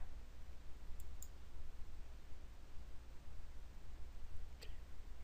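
A computer mouse clicks an OK button in statistics software: a few faint, sharp clicks, two close together early and one more later, over a quiet steady hum.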